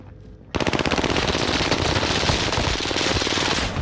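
Call of Duty: Modern Warfare gunfire bursts in after a short quiet start: loud, rapid automatic shots in a fast continuous rhythm.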